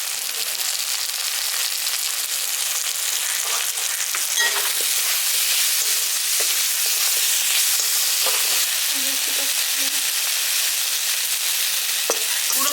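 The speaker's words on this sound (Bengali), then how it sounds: "মশলাগুলো দিয়ে ভালো করে মিশিয়ে নিচ্ছি।" Ground Kashmiri chilli and coriander spices frying in a pan with potatoes for a village-style spinach potato curry, a dense continuous close sizzle with scattered stirring clicks and scrapes, no talk.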